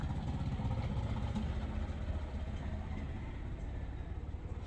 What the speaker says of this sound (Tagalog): Mayroong mga motorsiklo na dumadaan guys